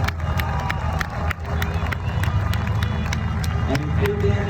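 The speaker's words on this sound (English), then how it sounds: "will you give them a great big round of applause" At a speedway memorial opening ceremony, a crowd outdoors applauds and cheers, scattered sharp claps over a steady murmur and low rumble, moderately distant and continuous.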